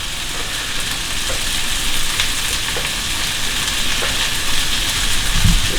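Okra frying in a hot pan for Caribbean steamed fish, a steady close sizzle with scattered crackles and a brief louder burst near the end, no voices.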